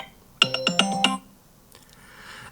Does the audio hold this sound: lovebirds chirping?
no